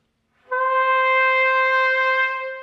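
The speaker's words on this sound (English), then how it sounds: "I'm simply sighing into the trumpet and allowing my lips to vibrate." A sustained trumpet tone made by sighing air through loosely vibrating lips, starting after a brief breath and holding steady and full for about two seconds with rich, even harmonics, played alone.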